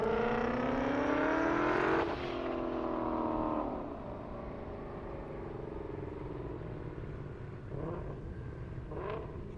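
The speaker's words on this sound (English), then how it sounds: "Here comes that GT500." A Ford GT500 runs at an airstrip racing event, its engine revving hard and rising in pitch through the gears before shifting and fading as it speeds away, with other engine noise lingering in the distance.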